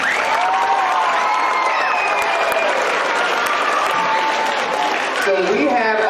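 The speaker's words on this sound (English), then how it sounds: "One more round of applause for the staffers." A school audience gives a dense round of applause for the staffers at Claymont's awards event, continuous and loud, with cheering voices mixed in.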